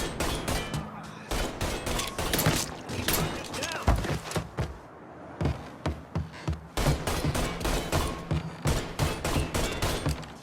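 Gunfire in the video game Mafia 3 comes as rapid, loud bursts of shots and sharp bangs, with a short lull in the middle before the firing resumes.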